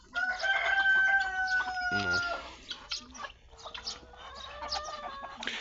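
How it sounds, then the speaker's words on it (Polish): A rooster crows loudly nearby, followed by scattered clucking from hens; a brief spoken word cuts in partway through. "O, tutaj jest mój e, jeden z najstarszych kogutów"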